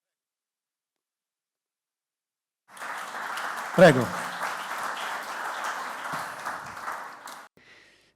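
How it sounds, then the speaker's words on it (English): After a brief silence, an audience at an industrial supply chain talk breaks into applause that lasts about five seconds and then stops abruptly. One person speaks briefly over the clapping. "A big round of applause."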